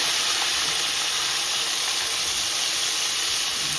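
Snapper fish frying in hot oil just after being flipped, a loud, dense, continuous sizzle and hiss that stays steady and close throughout, with no voices.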